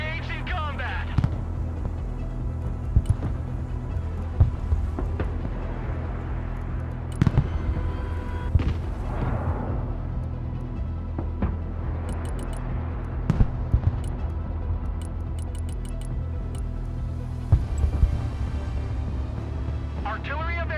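Anti-aircraft fire in the Broken Arrow real-time strategy war game, sounding as repeated sharp bursts and booming thuds over a constant low engine hum, with clipped radio-style voice lines talking throughout.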